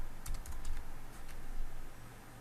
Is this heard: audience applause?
no